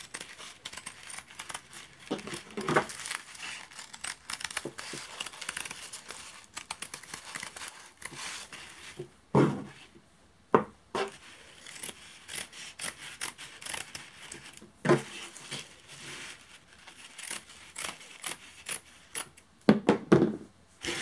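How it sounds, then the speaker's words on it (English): Scissors snip small slits around the edge of fabric being fitted over a plate, with short crisp cuts arriving in irregular bursts, close and fairly quiet, separated by brief pauses. "I'm simply going to cut small slits in the fabric all the way around"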